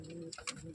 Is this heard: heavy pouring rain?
no